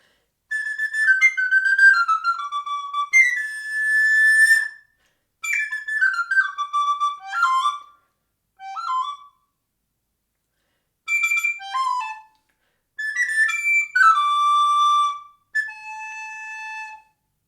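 Someone whistles a blackbird's song in imitation, several clear, fluting phrases separated by short pauses, heard alone and close.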